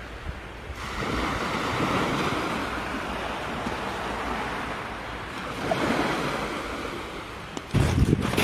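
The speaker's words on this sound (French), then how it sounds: "Juste le bruit des vagues." Ocean waves wash steadily onto a beach near Tarragona, Spain, early morning, a broad continuous roar swelling and easing, with some wind rumble and a louder surge near the end.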